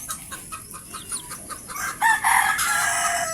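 Backyard chicks and free-range chickens cluck and call close by, a quick run of short clucks that swells into louder, denser calling toward the end.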